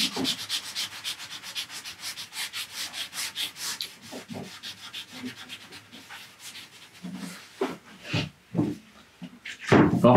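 A pad is rubbed over painted wood to distress decorative paint at the corners, making repeated rhythmic scrubbing strokes. They start brisk and regular, then turn slower and more irregular, close up, with a clunk at the end.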